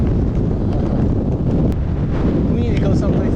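Strong gusting wind roars loudly and continuously across the microphone on a hilly hiking trail at Chino Hills, a dense rumbling buffet with a voice faintly underneath.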